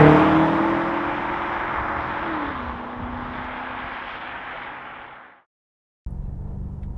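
A 2021 BMW M5 Competition's V8 drones under load while driving, a steady engine tone that shifts down once and fades out, followed by a short silence and then a low rumbling resumption.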